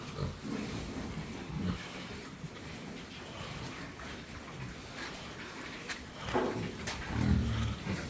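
Pigs on a farm in Colombia grunt and snort in low, irregular bursts, with a louder cluster of grunts near the end over a rustling pen background.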